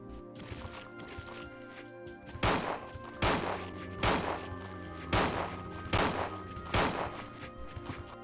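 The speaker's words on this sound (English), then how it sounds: "It shoots blanks and it has Claire's gun noise." A gun firing blanks in Resident Evil 2 gives six loud, evenly spaced booming shots, each with a short echoing tail, following a quieter lead-in with no talking.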